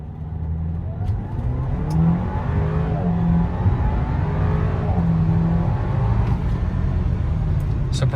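A 2017 Audi A4 accelerating from 0 to 60 in its sportier S mode, heard from inside as a smooth, continuous engine hum that climbs gradually in pitch under steady road and wind roar.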